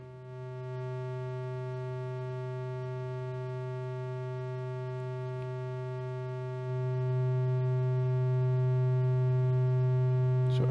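Moog Model 15 synth iPad app playing a steady held drone as its high-pass filter is swept, a bright buzzy tone whose low end grows fuller partway through, played alone without talk.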